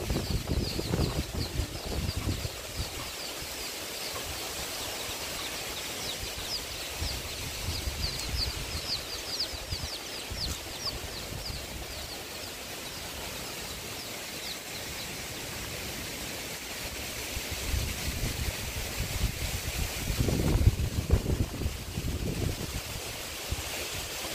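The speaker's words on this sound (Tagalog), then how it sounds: "Lakas pa rin ang hangin" Steady, strong typhoon wind roars and buffets around a house throughout, rising into louder gusts near the end, with no voices.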